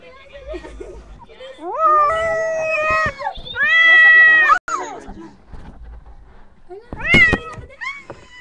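A cat in labor meows repeatedly: several long, rising and falling cries up close, with a sharp burst of meows near the end, while people talk quietly around it.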